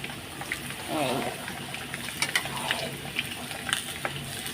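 Mutton frying in a kadai being stirred, with a steady sizzle of hot oil and scraping strokes of a spoon, close by and moderately loud, with a voice talking over it at times.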